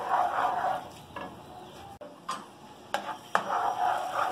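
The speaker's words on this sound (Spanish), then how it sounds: "Ya que se derritió, le agregamos este dientecito de ajo" Garlic clove sizzles in melted butter in a pan while Spaghetti Alfredo is being made, a soft crackling fry under intermittent stirring scrapes and a few light utensil clicks, close by and without talk.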